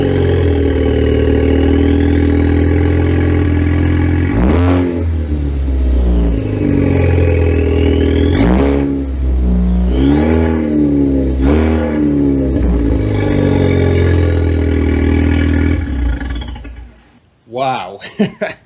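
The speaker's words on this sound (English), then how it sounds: "it's time for the obligatory startup without an exhaust" A Ford Focus ST MK3 engine with no exhaust fitted fires up and idles loudly, then revs sharply several times with rising and falling whines, close and harsh, before shutting off.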